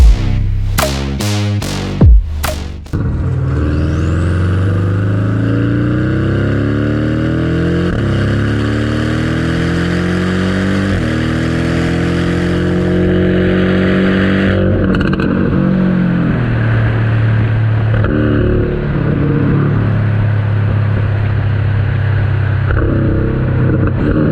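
A car engine at close range revs hard at the start, then climbs smoothly through several gear changes and settles into a loud, steady drone while cruising.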